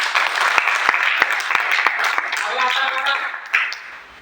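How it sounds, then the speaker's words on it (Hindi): Applause from an audience at a health awareness program, many hands clapping steadily and fairly close, with sharp individual claps standing out as a voice talks over it before the sound fades. "तो एक बार गैनोडो के लिए तालियां बजाएं।"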